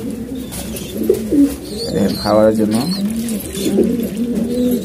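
Pigeons coo close by in low, rolling, repeated calls while someone talks over them.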